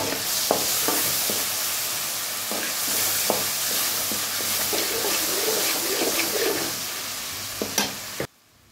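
Tamarind juice sizzles and bubbles in a hot pan for temple-style pulihora, a steady close frying hiss with scattered spoon scrapes and stirs, ending abruptly.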